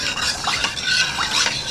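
A spoon stirs curd into warm milk in a pot, giving a few quick, close scraping and soft liquid swishes in short bursts, with no talking.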